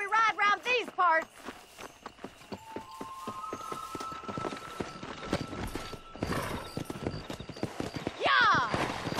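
Horse hooves clip-clop at a steady walking rhythm while riding in Red Dead Redemption, set in 1911, with a horse neighing briefly and people talking over the hoofbeats.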